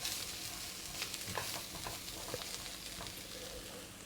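Soft, translucent onions frying in a pan give a faint, continuous sizzle with scattered small crackles and light stirring.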